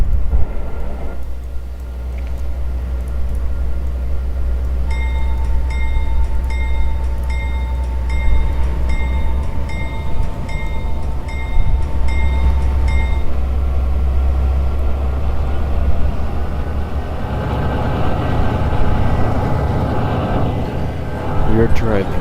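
Santa Fe intermodal freight train led by a B40-8W locomotive in the Trainz railroad game, a steady low diesel rumble and rolling rail noise held throughout, with a sustained tonal warning or horn-like tone in the middle and a voice talking over it.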